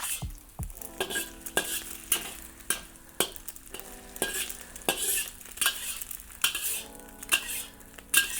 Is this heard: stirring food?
yes